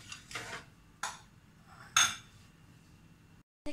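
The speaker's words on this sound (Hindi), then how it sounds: "अब पहले मैं इसे डाल के मिक्स करूंगी।" A spoon clinks and scrapes against a bowl while corn chaat is tossed with onion, tomato, green chilli, capsicum and cucumber, a few distinct quiet knocks spaced about a second apart in a calm kitchen.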